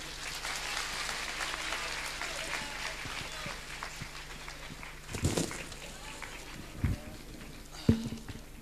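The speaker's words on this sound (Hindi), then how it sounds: "लीजिए ताली बजा के इसको खोलो।" An audience applauds at a book unveiling ceremony, a steady wash of clapping throughout with a few louder thumps near the end, heard from within the crowd.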